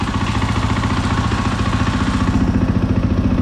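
A 2021 KTM 500 XCF-W dirt bike engine idling close by, a steady loud rhythmic thumping with a mechanical clatter and no voices.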